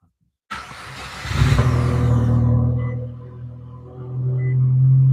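A Nissan Altima with a modified exhaust starts up and revs, a loud surge of engine roar settling into a steady, deep idle drone that swells again toward the end; no talking.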